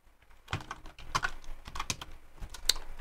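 Close, quiet keystrokes on a computer keyboard come in an uneven run of light clicks and taps, with short pauses between the bursts.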